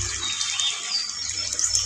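Cooked fish curry with vegetables is poured out of a pan in a steady, wet, liquid rush that runs close and fairly loud for about two seconds, with no talking.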